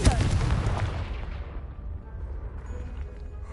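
A Confringo fire spell in Hogwarts Legacy blasts apart a pile of debris, producing one loud, close booming explosion that rolls off into a long, rumbling decay.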